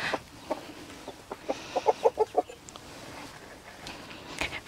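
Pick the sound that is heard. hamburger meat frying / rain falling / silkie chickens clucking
silkie chickens clucking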